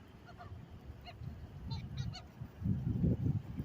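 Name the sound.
birds calling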